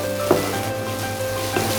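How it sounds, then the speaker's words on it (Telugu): Onion pieces frying with chana dal and urad dal in oil, a steady close sizzle with a couple of faint clinks of stirring against the pan. "ఇప్పుడు ఉల్లిపాయ ముక్కలు వేసుకుంటున్నాను. ఈ ఉల్లిపాయ ముక్కల్ని బాగా వేయించకండి"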